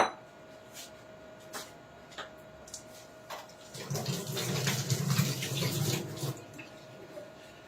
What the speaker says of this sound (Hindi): इसको हाथ धो लेती हूँ।